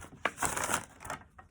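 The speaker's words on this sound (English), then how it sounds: "And as I say that, still shuffling." Tarot cards are shuffled in the hands, a short papery riffle in bursts close by, with no talking.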